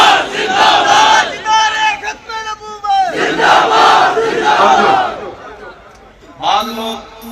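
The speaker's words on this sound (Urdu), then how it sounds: "تاجدار ختم نبوت کے نعرے" A large crowd at an Islamic religious rally in Narowal shouts slogans in unison, loud rhythmic call-and-response chanting that swells and fades in waves, close and powerful.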